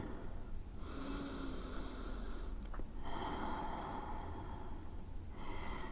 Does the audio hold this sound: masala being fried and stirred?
no